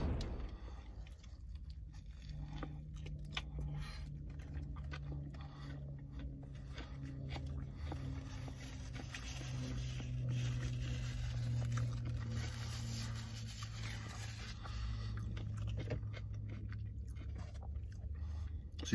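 Someone chews a flame-broiled bacon and cheese Whopper burger up close, with soft, steady mushy mastication and low muffled squishing running continuously for several seconds.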